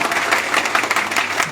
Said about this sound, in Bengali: আমরা জোরে তার জন্য করতালি দেব।